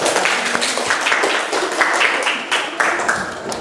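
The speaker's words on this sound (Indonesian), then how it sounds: "Beri aplaus untuk kelompok 3" Audience applause for presentation group 3 at a teaching class, a steady wash of close clapping from a modest crowd that holds for several seconds.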